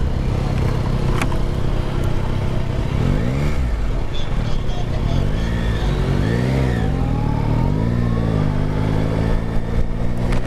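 A Yamaha Tracer sport touring motorcycle engine revs up and down repeatedly against a steady running drone, giving several rising and falling swells that sound close and loud.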